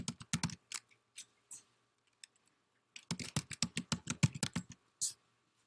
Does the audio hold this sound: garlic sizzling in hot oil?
no